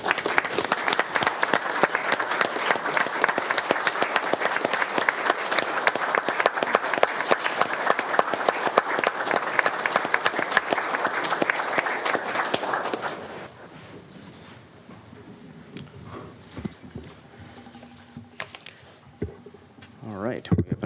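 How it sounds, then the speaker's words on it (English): Council meeting audience at a White Bear Lake city council session stands and applauds law enforcement officers, a loud sustained round of clapping for about thirteen seconds before it cuts off into quiet room noise with faint shuffling. "I think it's fitting that we stand and give them a round of applause for all their hard work for the city."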